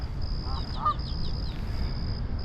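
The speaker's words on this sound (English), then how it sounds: "this is what you don't want to see. Canadian geese." Canada geese honking near a spring pond in Fort Worth, a few short nasal honks at moderate distance over a steady low outdoor rumble, with a thin continuous high tone running through.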